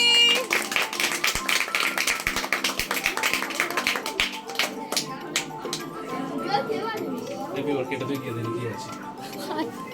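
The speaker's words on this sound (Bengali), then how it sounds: "হাততালি দাও, হাততালি।" Children clap after singing at a birthday party, a burst of quick, uneven hand claps that thins out after a few seconds while lively chatter and voices continue underneath.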